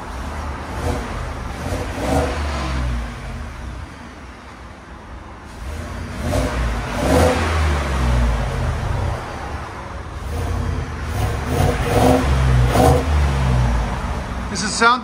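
A 2024 Ford F-150 with the 5.0L Coyote V8 on its stock exhaust revs in a shop bay, deep engine rumble swelling in several throttle blips over a steady idle, fairly close.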